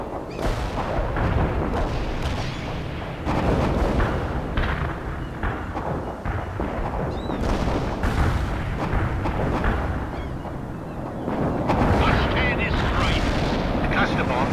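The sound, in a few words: cluster bomb airstrike explosions, World in Conflict video game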